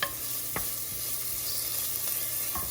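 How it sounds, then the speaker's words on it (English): Shallots and garlic sizzle in a pan, a steady close hiss with a few faint scraping clicks of stirring. "now I'm just going to stir the shallots and the garlic and cook until it changes color"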